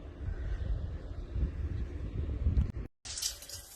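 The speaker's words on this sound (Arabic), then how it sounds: "وهذا هنا ماء جاري." Running water flowing in the Wadi Andam desert wadi in Oman, a close, rushing gurgle buffeted by wind on the microphone, ending with a brief dropout and a burst of hiss.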